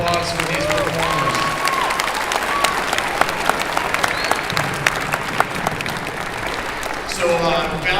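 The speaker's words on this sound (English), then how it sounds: "one more round of applause for these performers" Audience applause for performers at a Valley Christian High School arts festival band concert, a steady, dense clapping that fills the hall for several seconds, with faint tonal sounds and voices mixed in toward the end.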